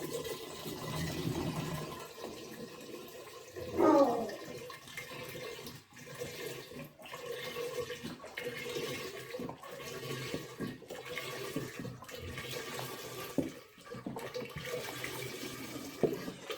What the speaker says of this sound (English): I'm splashing on purpose, and that is to get some oxygen in here, because your yeast needs oxygen to start off.